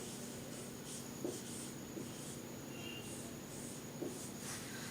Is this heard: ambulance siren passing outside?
no